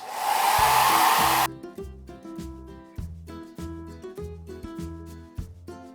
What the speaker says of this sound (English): I am going to be using my trusty little hair dryer